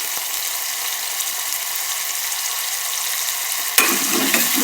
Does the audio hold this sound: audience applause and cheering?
no